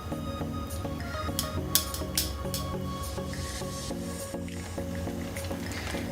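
Spaghetti boiling in a pot of water, a close wet bubbling and squishing with drips and gurgles, and steady rhythmic clattering running underneath.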